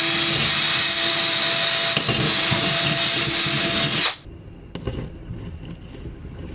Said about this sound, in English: With the pilot hole drilled